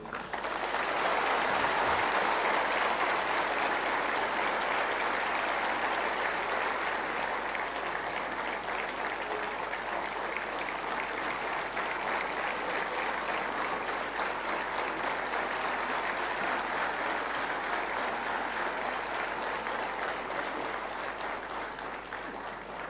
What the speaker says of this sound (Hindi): उसके लिए तालियां कमजोर थीं